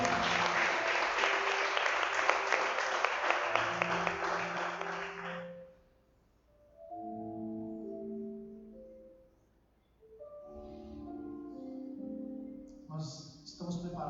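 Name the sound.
congregation applauding in church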